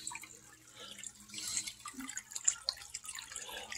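Water poured into a potted phalaenopsis orchid, heard as faint, scattered drips and small splashes trickling through the potting medium in a quiet room, with no talking.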